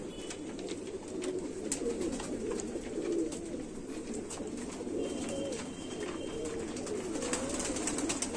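Domestic pigeons at a loft in Jammu coo steadily throughout, a low rolling murmur of several birds close by, with faint chirps over it and no talk.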